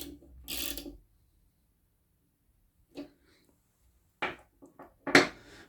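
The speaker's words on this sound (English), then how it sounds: "push that on the shaft, get your spanner and just tighten that down" A spanner tightening a 10mm bolt on the shaft of an Axminster AT50E wall-mounted dust extractor, a few short metallic clicks and scrapes separated by quiet gaps, close and faint.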